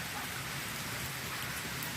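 Heavy rain pours steadily during an approaching typhoon, a dense, continuous hiss of drops hitting surfaces outdoors, loud and unbroken with no voices.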